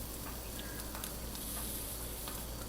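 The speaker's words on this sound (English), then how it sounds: "I think that's a small egg, and it's in our smallest frying pan." Steady crackling sizzle of a small egg frying in a small pan, close and continuous with small pops, no voices.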